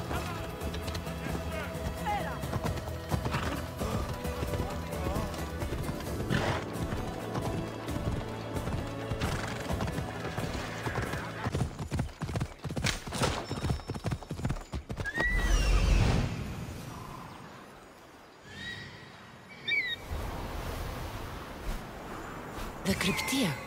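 A horse ridden at a gallop in Assassin's Creed Odyssey, with rapid, steady hoofbeats clip-clopping and neighs over game music and ambience. There is a loud crash partway through, and voices speak over it.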